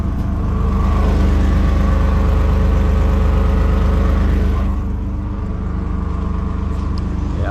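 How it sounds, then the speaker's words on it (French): A van engine with a partly unwelded exhaust pipe idles and revs close by with a rough, rattling drone, loud and continuous, then eases slightly toward the end. "le pot d'échappement est un petit peu dessoudé, donc le van fait un petit peu plus de bruit"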